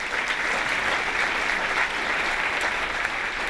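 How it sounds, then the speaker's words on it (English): An audience at a developer talk claps for the stenographer, an even, sustained round of applause from a sizable crowd with no pauses or voices over it. "can I just get a round of applause for the stenographer who's been typing up these guys?"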